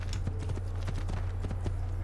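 A horse galloping in Assassin's Creed II, its hoofbeats thudding in a quick, even rhythm close by over a steady low hum, with no talking.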